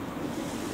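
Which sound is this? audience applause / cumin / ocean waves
ocean waves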